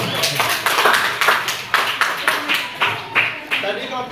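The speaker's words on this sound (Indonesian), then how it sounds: "Kita berikan kepada aplaus kepada kelompok" An audience applauds a performing student group at an Islamic preaching practice session, giving a short burst of steady, fairly close hand clapping with distinct individual claps, plus a few voices underneath.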